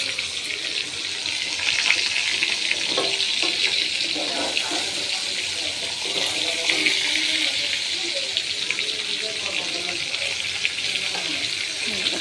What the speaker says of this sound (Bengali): কই মাছ ভাজি দেখছেন